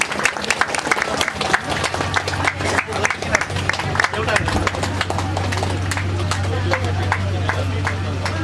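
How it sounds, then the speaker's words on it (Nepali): At a book launch for a biography, a crowd claps in rapid, uneven bursts while a person keeps talking over the applause. "सबैजनाले ताली बजाइदिनु।"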